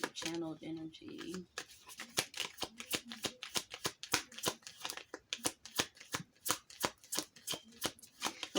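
Tarot cards are shuffled by hand in rapid, rhythmic riffles and slaps, a close crisp patter running throughout, with brief speech at the start.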